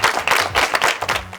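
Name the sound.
children applauding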